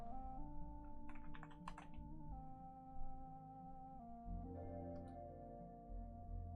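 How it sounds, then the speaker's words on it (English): Typing on a computer keyboard, soft quick clusters of key clicks, faint and low in level beneath a steady electronic hum and tonal background, with no talk. "I'm typing and the letters don't come up"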